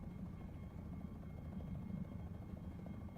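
Helicopter rotor and engine drone in War Thunder, a steady low thumping roar held at even loudness throughout, heard alone with no talk.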